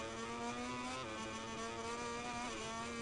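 A motorcycle in MotoGP 21 on the San Marino circuit, braking hard into a corner, with a loud, steady engine drone and a whining pitch that shifts slightly as engine braking holds it, heard alone without talk.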